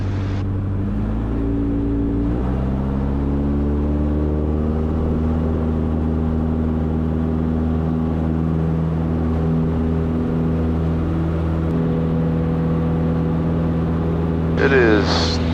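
Piper Cub light airplane engine at full power for takeoff on a cool early morning, a steady droning hum with rising pitch as revs climb, close and loud, a brief burst of noise near the end.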